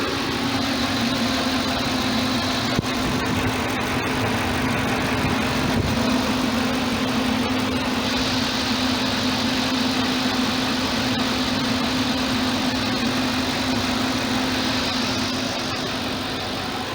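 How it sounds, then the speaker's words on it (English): A 2020 BMW M850i xDrive idles with a steady, deep, even hum and a smooth, continuous drone. The engine is close and constant throughout, with no speech over it. "You can hear now guys the sounds of the engine."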